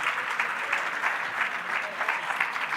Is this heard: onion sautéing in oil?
no